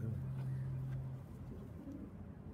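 Pigeons kept on a rooftop loft give a low, steady coo that holds for about a second and then fades, leaving faint outdoor background noise.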